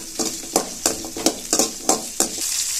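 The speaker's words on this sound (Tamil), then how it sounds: "ஒரு கைப்பிடி சின்ன வெங்காயம். இப்போ இதை நல்லா வதக்கிக்கலாம்." Small onions sautéing in oil in a pan for a traditional village-style mutton curry, with a steady sizzle broken by about eight rhythmic stirring scrapes, close and clear, no voices.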